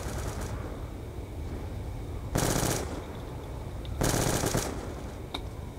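Machine-gun fire in Black Ops 2 Zombies on the Nuketown map: two loud bursts of rapid automatic shots over constant game background noise, with a faint single shot near the end.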